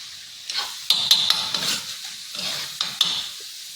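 Onion and tomato being stirred in a pan with chilli powder for egg bhurji, a series of sharp scraping knocks over a steady close sizzle.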